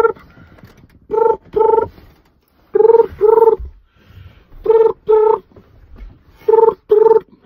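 A phone keypad dials a number in paired tone beeps, two quick tones per group repeated four times with pauses between, loud and clear with faint background noise.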